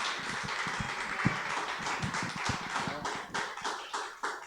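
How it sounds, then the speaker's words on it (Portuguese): A church congregation applauds in worship, many hands clapping in a brisk, uneven rhythm of sharp smacks that rise and fall over several seconds. "Se for para aplaudir o Senhor Jesus, aplauda melhor"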